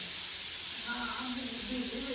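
A pressure cooker of lentils vents steam in a continuous loud hiss, with faint tonal whistling rising toward the end.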